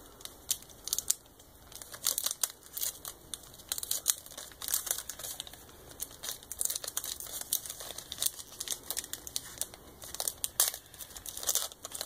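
A Pokémon card pack being torn open close up, with quick, repeated crinkling and ripping of foil wrapper in bursts and pauses, no talking.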